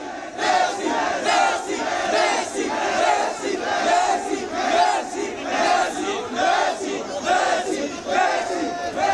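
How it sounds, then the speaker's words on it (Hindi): A large crowd outside a stadium chants Messi's name in repeated rhythmic bursts, loud and close, the chant rising and falling steadily throughout. "ये स्टेडियम के बाहर मेसी मेसी के नारे लगाए।"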